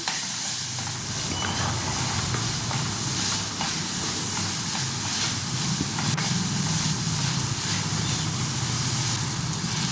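Curry leaves and green chillies sizzle in hot oil for a coconut prawn curry, a loud, steady crackling hiss that stays constant throughout without any speech.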